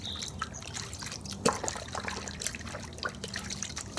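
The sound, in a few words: water with car wash soap being agitated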